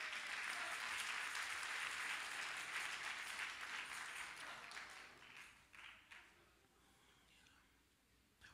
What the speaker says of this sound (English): clap your hands like you love him tonight